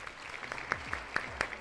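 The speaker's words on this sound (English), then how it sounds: "A round of applause" A short burst of applause, scattered claps landing irregularly for under two seconds with no voices over them.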